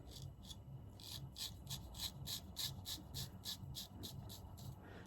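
A custom Koraat straight razor shaves through stubble in quick, regular short strokes, a crisp rasping scrape repeating about twice a second, close but fairly faint over a low background hum.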